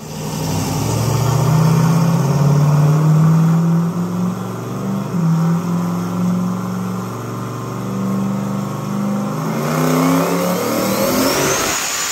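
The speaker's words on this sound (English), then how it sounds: "I revved it to what, 76?" A car engine on a race track revs hard to about 7,700 rpm, a high sustained whine that holds, then drops back briefly before rising again, loud and close with no talking.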